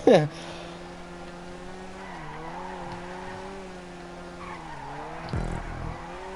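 A Rune Cheburek car in Grand Theft Auto 5 drives at a steady engine drone with tyres squealing and skidding through the corners, opening with a sharp squeal and ending in a brief thump, fairly quiet overall.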